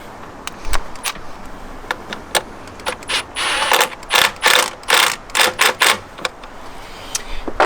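A ratchet drives 10mm valve cover bolts into a new valve cover on a BMW X5 E70 with the N55 engine, giving rapid close clicking bursts of pawl ratcheting in irregular runs with short pauses, alone without talk.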